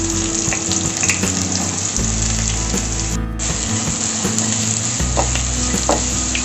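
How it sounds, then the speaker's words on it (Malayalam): Onions frying in roasted spices for a Kerala beef stew give off a steady, loud sizzle and crackle with occasional stirring scrapes, under soft background music. "ഉള്ളി വഴന്ന് വരുന്നുണ്ട്"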